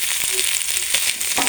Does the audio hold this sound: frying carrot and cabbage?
yes